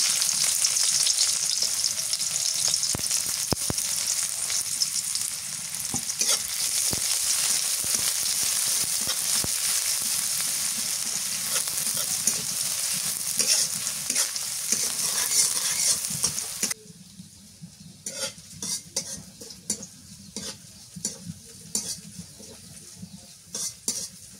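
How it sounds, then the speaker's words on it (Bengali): Chopped onions and black cumin sizzle loudly in hot oil with a spoon stirring and scraping the pan, the frying settling to a quieter crackle near the end. "পেঁয়াজ ভাজা হয়ে গেছে"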